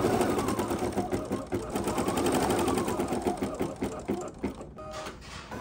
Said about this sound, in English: And now we're going to stitch. And this one is the tack down stitch at the top and bottom.